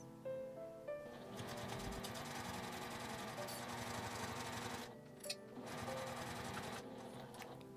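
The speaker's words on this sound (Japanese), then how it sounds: "また縫い目の下を端まで縫います。" A sewing machine runs along the lining of a small zippered coin purse, a close, steady mechanical whir with rapid needle ticking that pauses briefly twice before resuming.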